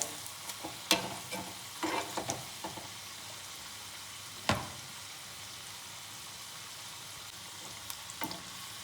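Onion bajji fry in hot oil, a soft steady sizzle broken by occasional sharp crackles and pops, one louder crack standing out, fairly close and quiet with no voices.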